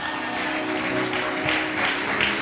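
An audience in a church gathering claps steadily in dense, continuous applause that holds at an even level throughout, with a faint voice underneath.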